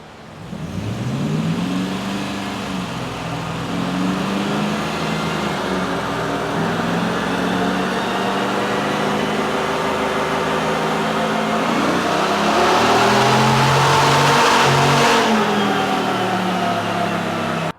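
A Dodge 1500 pickup fitted with a custom air intake runs on a dyno, its engine droning loud and steady as revs climb through a long sweeping pull, peaking near the end before easing, with no talking.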